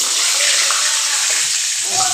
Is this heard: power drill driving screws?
no